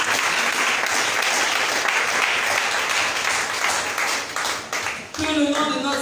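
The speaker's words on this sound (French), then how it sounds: "Sous les acclamations nourries" A church congregation applauds in warm, sustained clapping that fills the room, dipping briefly near the end as a voice begins over the fading applause.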